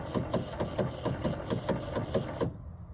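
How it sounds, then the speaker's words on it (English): The pop-up headlight motors of a flood-damaged Chevrolet Corvette ZR1 whir and clatter in a fast rhythmic mechanical cycle up close for about two and a half seconds, then stop abruptly. "Those are the headlight motors spinning"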